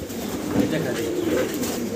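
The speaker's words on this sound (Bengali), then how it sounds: "এটা হলো ডিমের পুরো কবুতর।" Pigeons cooing in a pigeon farm cage, soft low rolling coos close by, with a voice talking over them.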